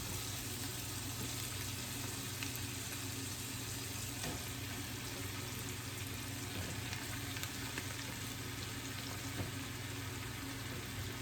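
Mushrooms fry in a pan with a steady, dense sizzle that carries on evenly throughout, with no talking.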